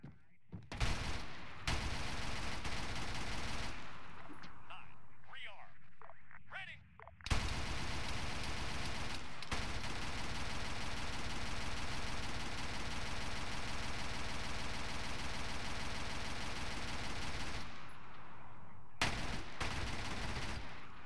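A minigun in a video game fires sustained, dense roaring bursts that are loud and close, broken by a few brief pauses between long volleys.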